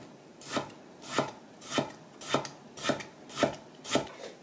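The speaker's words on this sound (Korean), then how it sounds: "저는 오늘 채를 썰어서 무쳐보겠습니다" A knife chops radish into thin strips on a board, giving close, evenly spaced strokes about every half second, each a short scraping thud over a quiet background with no voices.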